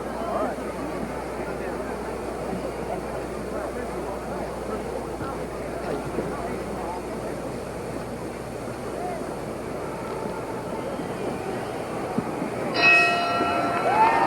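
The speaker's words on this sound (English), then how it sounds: "The bell for round one." A boxing ring bell opens round one of the Muhammad Ali vs Buster Mathis heavyweight fight, ringing briefly near the end over a steady arena crowd roar, with a commentator's voice running underneath.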